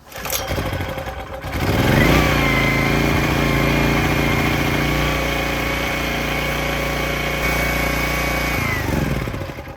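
A portable generator's small engine catches after a brief crank and settles into a loud, steady idle hum with strong low harmonics, running continuously close by until it fades at the end.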